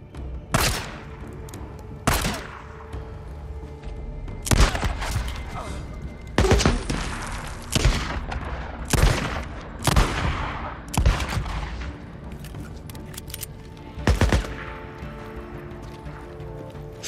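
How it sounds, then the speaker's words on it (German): Gunfire in the video game Days Gone, a series of sharp, loud single shots and short bursts spaced irregularly across the span, with occasional speech and game sounds between them. "Schussgeräusche oder laute Explosionen können Gegner anlocken."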